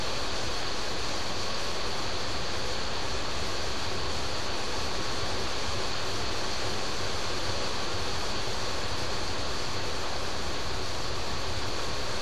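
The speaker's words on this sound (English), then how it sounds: "Sorry for the noise, it's raining outside." Rain falling outside, a dense, constant broadband hiss that stays loud and unchanging throughout with no pauses.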